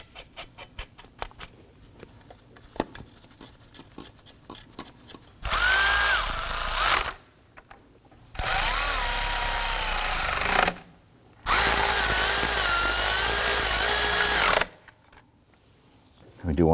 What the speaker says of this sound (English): Or you can use your impact driver to go ahead and run those in.